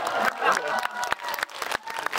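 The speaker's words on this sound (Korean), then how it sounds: "저한테 박수 좀 주세요." Audience applause at a Korean film talk event at a CGV cinema, a dense steady patter of clapping with sharp individual claps standing out, fairly near and continuous throughout.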